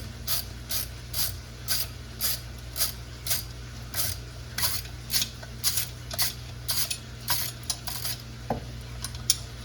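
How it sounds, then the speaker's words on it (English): Ratchet wrench working a half-inch fastener on a hot tub pump's mounting strap, with quick, steady clicking bursts repeating over a constant low motor-like hum. "In my particular case, it's a 1/2 inch fastener that gets removed"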